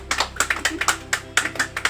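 A room of trainees and community members claps for Mama Agustina during a social-services training session, a quick run of sharp, uneven hand claps of moderate loudness, fairly close, with no voices over it.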